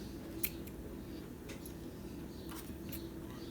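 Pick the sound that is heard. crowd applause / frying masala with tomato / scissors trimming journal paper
scissors trimming journal paper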